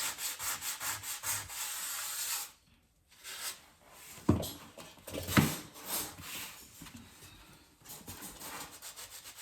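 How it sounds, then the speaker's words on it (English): Sandpaper rubbing back and forth on a wooden piece before painting, rhythmic close scratchy strokes in bursts with a short pause in the middle, no talking. "I'm just gonna sand this and paint"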